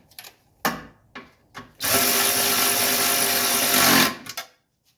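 Power tool tightening nuts onto bushings in the engine bay of a 1981 Mercedes 300SD, a few short bursts followed by a steady whirring run of about two seconds, then brief clicks.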